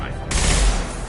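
Rifle fire from the video game Mass Effect 2, a loud burst of gunfire that starts abruptly and stays dense and heavy for about a second, close and dominant over game sound.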